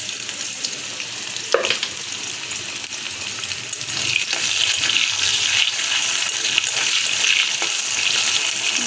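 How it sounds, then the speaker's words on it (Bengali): Cut potatoes fry in a pan, a steady loud sizzle and crackle running the whole time, with occasional clinks and stirring scrapes near at hand and no talking. "ভাজা হোক আলুটা"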